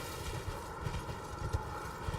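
Horse hooves clip-clopping in Elden Ring, a steady walking rhythm of dull thuds over a constant ambient drone, close and moderately loud.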